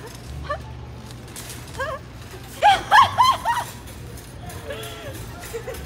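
Several people imitate a chicken clucking indoors, making short rhythmic bursts of vocal clucks that grow louder in a quick run near the middle, with chatter and laughter around them.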